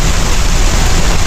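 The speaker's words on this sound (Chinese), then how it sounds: "这一下雨了，特别凉快" Heavy rain pours steadily during a storm at a park campsite, a loud dense unbroken hiss with low rumble underneath, no voices.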